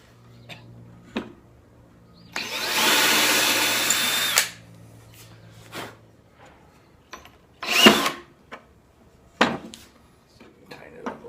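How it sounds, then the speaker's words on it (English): A power drill drives a screw into a board for a wooden jig while a folding table is built. It whirs steadily for about two seconds, then gives a short second burst among small handling knocks. "Now I'm going to screw a board in here to make my jig."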